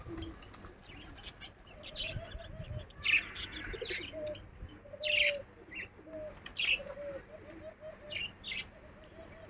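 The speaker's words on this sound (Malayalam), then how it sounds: "പിന്നെ പേരറിയാത്ത കുറേ കിളികളും. പ്രാവുകളിലും തത്തകളും കേട്ടോ കുറേ അധികം വെറൈറ്റികളുള്ളത്." Several birds call around an outdoor spot, pigeons cooing low alongside parrots and other small birds giving sharp, repeated chirps and tweets, with occasional wing flaps, all moderately close over a steady background hum.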